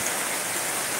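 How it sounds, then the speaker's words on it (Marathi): Steady rain from the first monsoon shower in Konkan, a dense, even hiss of drops falling on surfaces nearby, with no voices over it. "पावसाने तरी करू शकतो थंड हवा, मस्त पाऊस."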